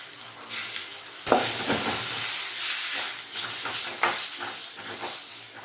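Onions with ginger garlic paste sautéing in a pan for a spicy chapathi and poori kurma, with a steady loud sizzle and hiss and repeated stirring scrapes throughout, no talking.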